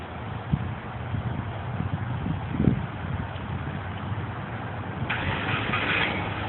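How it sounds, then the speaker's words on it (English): A car engine started remotely through an Arduino keyboard command cranks and catches, then settles into a steady mid-pitched idle close to the microphone, with a brighter hiss rising near the end. "I'll just press an S here on the keyboard, and you'll see the car start."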